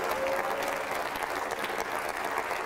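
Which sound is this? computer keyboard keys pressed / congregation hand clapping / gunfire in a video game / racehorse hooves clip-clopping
congregation hand clapping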